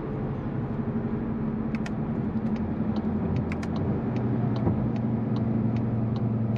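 A 2023 Volkswagen Golf GTI in sport mode on the autobahn lets out a series of short, sharp exhaust pops and crackles on the overrun, spaced irregularly over a steady low engine and road rumble heard from inside the cabin.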